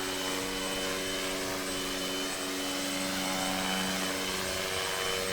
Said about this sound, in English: Let's see if we can land this thing on this aircraft carrier.